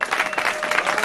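Fans applaud a football team arriving at its sports centre in the middle of the night, a steady, dense clapping from a nearby crowd with bright texture throughout and no pauses.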